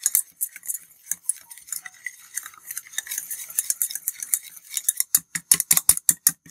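Chicken curry stirred in a pot with a metal spoon makes light, scattered clinks that turn into a fast, steady run of loud scraping knocks toward the end.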